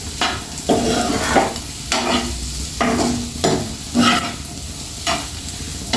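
An onion egg curry fries in a pan while being stirred, giving a steady sizzle broken by rhythmic scraping strokes roughly every second, close and moderately loud with no talking.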